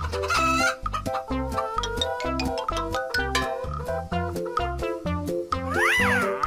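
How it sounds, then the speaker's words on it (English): Cartoon chicken clucks with cat-like calls, set against a loud, bouncy, steady children's music track, with a rising sweep near the end. "chicken,"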